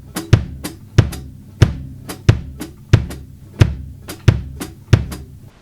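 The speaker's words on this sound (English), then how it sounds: "you're going to do 4 on the hi-hat with your left foot, and you're going to do 3 with the feet" Kick drums on a drum kit pound a steady, even pulse of sharp, punchy hits, with crisp ticks between them, working through a polyrhythm of four on the hi-hat pedal against three on the bass drums, close and alone.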